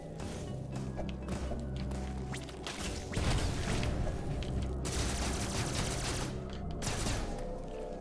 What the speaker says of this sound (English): Just gotta shoot all the walls.